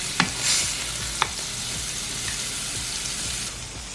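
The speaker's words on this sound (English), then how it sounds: "I am pan searing my steaks for about a minute each side just to cook the outside nicely." Steaks searing in a hot pan, a steady close sizzle and frying hiss running throughout with a couple of sharp pops and light clinks near the start.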